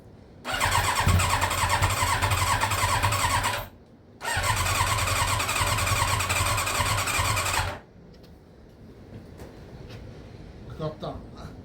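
Yamaha YZF Thunderace motorcycle under restoration, engine running loud and close in two bursts with light revving, a brief stall between them, then quiet with small clanks.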